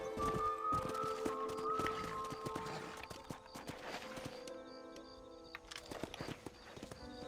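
Horse hooves clip-clop in the Western video game Red Dead Redemption, a steady rhythmic trot running throughout amid game music and ambient tones, fairly close and moderately loud.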